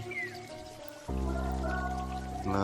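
Water pours steadily through a dam irrigation canal that feeds rice paddies, a loud continuous rush with no talk. Partway through it grows suddenly fuller and louder.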